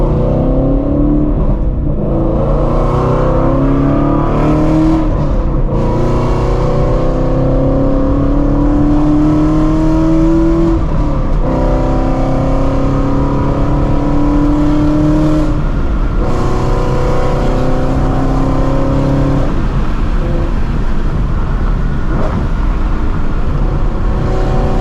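A Ford Shelby GT350 Mustang with its 5.2-liter Voodoo V8, full bolt-ons and E85 fuel, pulls hard through rising revs and repeated gear changes, a loud, continuous in-car engine roar with no talk.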